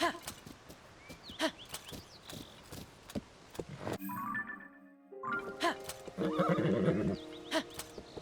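Horse neighing and hoofbeats from the video game The Legend of Zelda: Tears of the Kingdom, with rapid clip-clop steps and a long whinny in the middle, then music-like game tones and chimes.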